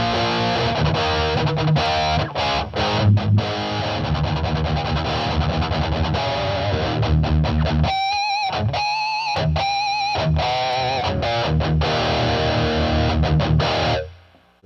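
Budget guitar amp playing basic distorted tones with all EQs at noon: continuous gritty overdriven chords and riffs, a choppier muted passage in the middle, then a ring-out into silence at the end.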